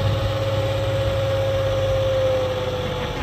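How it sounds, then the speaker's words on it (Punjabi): A tractor engine idles close by, a steady low rumble carrying a sustained whine that holds evenly from start to finish, with no talking. "ਅੱਜ ਦੋ ਟਰੈਕਟਰ ਇਕੱਠੇ ਹੋਏ ਹੋਏ 52-10 ਆਪਣੇ ਵਾਲਾ 52-10 ਜਗਦੀਪ ਵਾਲਾ"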